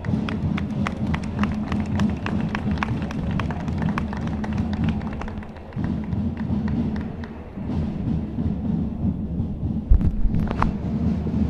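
Crowd applause for the Alebio borough representatives at an outdoor Palio procession, sustained dense clapping from many hands, steady and moderately loud with a faint rumble of wind and movement underneath.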